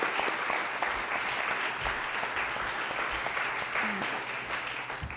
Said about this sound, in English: Can we have a round of applause for everybody for their success?